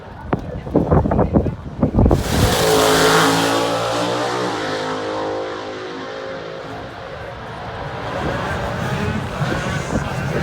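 1957 Chevy drag racing car at full throttle on a drag strip: a loud engine roar bursts in after brief talk, then its pitch sweeps and fades as the car speeds away, with a voice speaking over it at the start.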